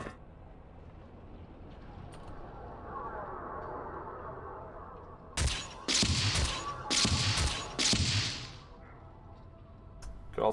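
Gunshots in a video game erupt after a quiet, murmuring stretch, coming as four or five loud, close volleys in quick succession before fading back to low ambience.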